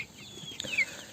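Free-range desi chickens on a farm, with a single brief, fairly faint cluck rising over a soft, steady outdoor background.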